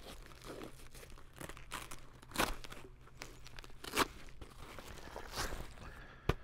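Emergency blankets, emergency shelters, plastic bags and a Tyvek bag crinkle and crunch in a pouch, in quiet, close, irregular bursts with a few sharper rustles.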